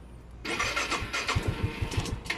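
A Yamaha Mio i 125 scooter engine with a fault code sputters and chokes under throttle, near and loud, its uneven low thumping slowing toward a stall after a brief quiet start.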